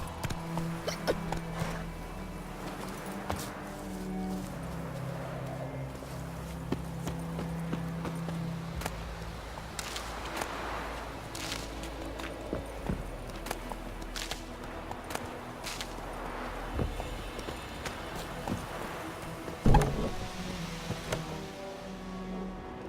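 Roach, a horse in The Witcher 3, clip-clopping at a steady walking gait on hard ground, with a faint voice and scattered game sounds around the hooves.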